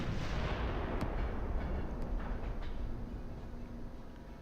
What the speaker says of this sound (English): I'm gonna shoot at you with my rifle.